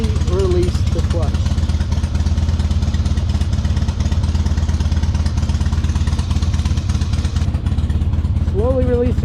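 A Harley-Davidson motorcycle engine idles steadily and close by, then works into first gear as the clutch is slowly let out, with a loud, even thumping throb throughout and short bursts of talk over it.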